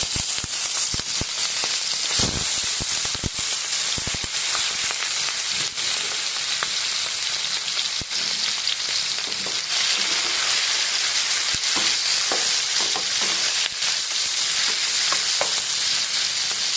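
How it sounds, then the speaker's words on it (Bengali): Shrimp fry in hot oil with a dense, continuous, loud sizzle and crackle, punctuated by sharp pops and brief stirring clatter. "তেলটা গরম হয়ে গেছে, চিংড়ি মাছটা দিয়ে"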